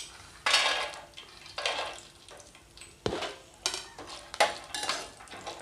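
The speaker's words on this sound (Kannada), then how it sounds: "ಒಳಗೆ ಡ್ರೈ ಫ್ರೂಟ್ಸ್ ನಾವು ಹುರ್ಕೊಂಡು ಇಟ್ಕೊಳ್ಳೋಣ." Dry fruits fry in a pan with a soft, steady sizzle, broken by repeated scraping and clinking as a utensil stirs them against the metal, with no talking.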